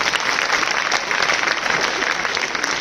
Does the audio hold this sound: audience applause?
yes